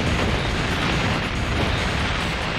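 Fire rains down in a chaotic battle in Warriors Orochi 3, with a dense wall of rumbling explosions and bursts roaring loudly and continuously.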